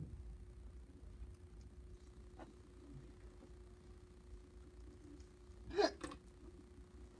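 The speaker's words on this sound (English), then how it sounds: "Bless you, excuse you, or whatever That's that a is." A single short hiccup breaks through a quiet classroom during a precalculus lesson, one sudden faint burst over a low steady room hum.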